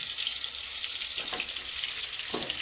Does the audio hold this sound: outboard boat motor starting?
no